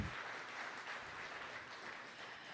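Audience applause after morning speakers, demoers and presenters at a Palantir AIPCon conference, a steady, faint wash of clapping that holds evenly throughout.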